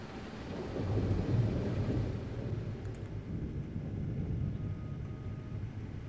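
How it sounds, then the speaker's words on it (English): Steady rain hiss with a low, rolling rumble of thunder swelling early on, continuous and fairly even throughout, no voices, from rain and thunder in a gold mining simulator video game. "It's raining again."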